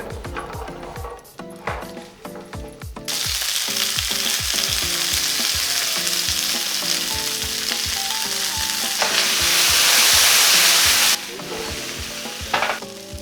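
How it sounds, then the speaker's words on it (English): Green beans hit hot oil in a pan for Szechuan green beans: a few light clatters, then a loud, steady sizzle with stirring, swelling brighter near the end before dying back to scattered pops. "Start frying the green beans."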